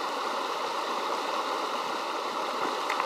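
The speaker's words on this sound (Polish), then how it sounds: "Przechodzi przez potok." A flowing stream rushes steadily in a continuous broad hiss of moving water, even and unbroken throughout with no voices.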